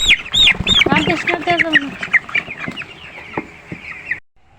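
Chickens and chicks cluck and cheep loudly and continuously on a village poultry farm as the chicks are caught and carried to another house, with a person talking underneath.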